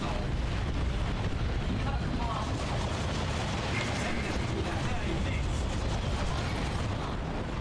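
Rocket fire and explosions in the Warhammer 40K game Dawn of War 2 Retribution churn together into a dense, continuous rumble of blasts and mechanical clatter, with no breaks across the whole stretch.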